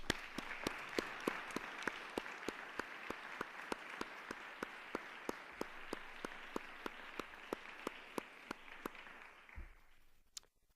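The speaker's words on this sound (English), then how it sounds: "Please join me in giving them a round of applause." Quiet, distant applause from the audience at a civic task-force meeting on infant mortality, with sharp regular clap-like clicks standing out over a soft wash of clapping that fades after about nine seconds.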